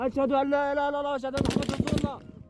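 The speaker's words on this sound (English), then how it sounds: "In total, Rafat films almost 6 minutes of gunfire." A voice chants or calls out, then a rapid burst of gunfire erupts in Gaza, several quick loud shots in a row before fading.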